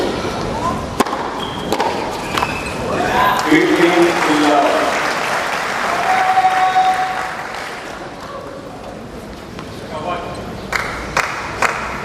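At the Asian Games 2018 gold medal match between Uzbekistan and China, a crowd applauds and cheers. The noise swells to a loud roar in the middle and then fades, with sharp claps and thuds, and voices can be heard in the mix.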